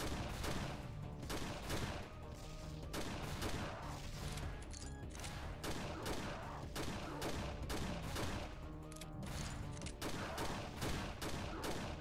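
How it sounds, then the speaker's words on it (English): Rapid bursts of gunfire in the post-apocalyptic game Ashes 2063, with repeated sharp shots, some near, over a dense, constant backdrop of game sound. "You know what, I'm gonna use a pistol on him"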